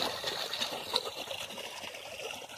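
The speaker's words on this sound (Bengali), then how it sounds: "এখানে পড়ছে জল, এটা দিয়ে যাচ্ছে" Water pours and trickles steadily onto a vegetable garden in a village, a soft continuous splashing hiss with no voices.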